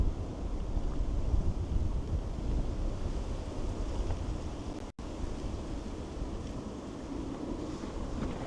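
Strong wind on a hiking loop trail in Japan roars and buffets the microphone, a constant low rumble with gusty swells, loud and unbroken apart from a brief dropout.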